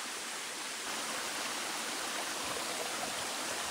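Water from a mountain stream above a waterfall rushes in a steady, dense broadband roar, constant and fairly close, with no voices over it.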